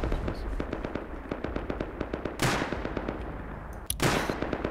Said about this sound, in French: Des grenades.